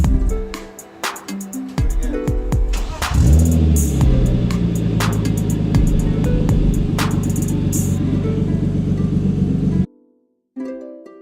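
A 1997 BMW M3 with a turbocharged engine cranks and catches, then settles into a loud, steady idle close by before cutting off abruptly near the end.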